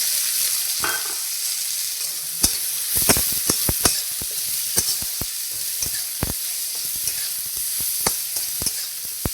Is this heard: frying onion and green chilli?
yes